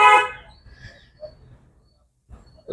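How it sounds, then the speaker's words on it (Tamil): A car horn honks once, a short harmonic blast at the start, followed by quiet road noise and a brief sound near the end. "இங்கே ஒரு முறை ஹார்ன் அடிச்சிருக்கோம்"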